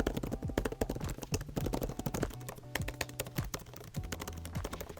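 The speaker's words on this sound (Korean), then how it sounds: "서피스로 타이핑 해보시면 진짜 편하다라는 것을 느끼실 수 있을 거예요." Rapid typing on a Microsoft Surface Pro 8 detachable keyboard, close and clear as a continuous stream of soft, quick key clacks with irregular rhythm.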